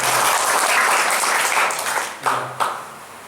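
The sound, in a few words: audience applause for a man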